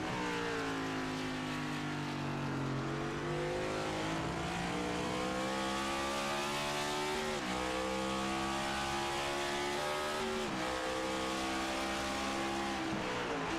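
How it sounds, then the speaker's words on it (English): NextGen Cup race cars roaring around Red Bull Ring in the iRacing simulator, loud sustained engine notes climbing through gears with repeated shifts and rising pitch, several cars close together, no talk. "But Aaron Spear is able to get back on the throttle faster than McCall."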